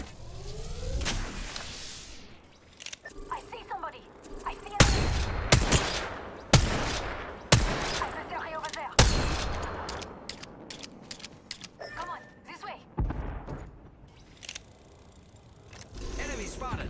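Gunfire in the video game Apex Legends, with a run of sharp, loud shots in quick bursts, some rapid and some spaced, mixed with mechanical clicks and game effects, and a voice talking over it at times.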